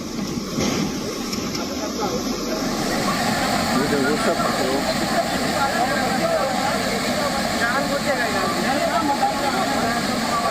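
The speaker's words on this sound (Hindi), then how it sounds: "जहां बारिश की वजह से एक बस पानी में बह गई" Heavy rain floodwater in Champawat, Uttarakhand rushes and roars steadily as it sweeps a school bus away, a loud continuous churning wash throughout, with a voice speaking over it.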